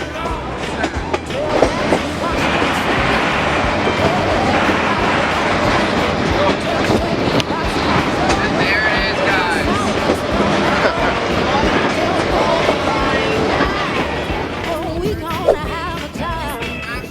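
Loud, sustained rumble of a pair of F-unit diesel locomotives laboring uphill with a passenger train on the Verde Canyon Railroad in Arizona, with rhythmic clatter of wheels on rails throughout.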